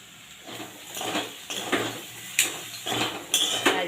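A spoon scrapes and clinks against a pan while pasta is mixed with tomato sauce, giving a run of rhythmic metallic knocks and scrapes, close and clear, with no talk.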